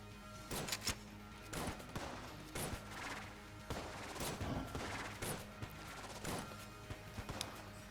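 Enter the Gungeon gunfire crackles in repeated sharp volleys, with bullets bursting at irregular intervals over quiet game background sound.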